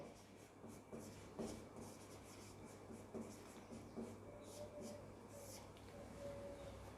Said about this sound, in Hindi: आइए परिभाषा लिखते हैं।